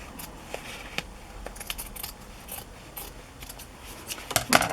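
Scissors trimming fabric for a journal cover, a string of light, close snips and crisp blade clicks that grow louder toward the end.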